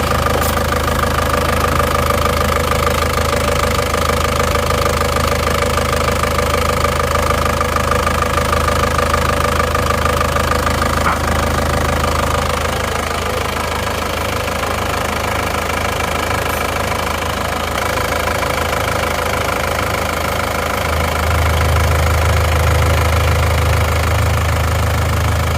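A rebuilt Isuzu Panther diesel engine, overheated after running out of radiator water and now blowing heavy blow-by, idles with a steady loud knocking clatter, close up and continuous, its low rumble deepening near the end.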